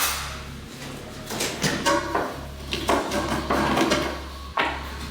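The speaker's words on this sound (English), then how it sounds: "I'm going to stir that in, make sure it gets all mixed in nicely." Spoon scraping and knocking in a bowl as peanut butter is stirred into oatmeal, with irregular clinks and soft scrapes over a steady low hum.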